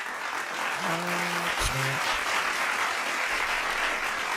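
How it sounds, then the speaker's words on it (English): A round of applause rings out steadily for the whole stretch, with a voice briefly speaking over it near the start. "let me give y'all a round of applause, bro"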